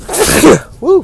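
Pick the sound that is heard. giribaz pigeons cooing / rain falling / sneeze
sneeze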